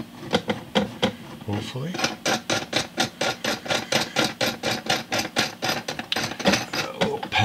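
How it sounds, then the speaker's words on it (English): Clamps are worked onto the body of a Jay Turser acoustic bass guitar under repair, giving a steady run of rapid ratcheting, scraping clicks up close. A voice speaks briefly over the sound. "Try and get three clamps on this."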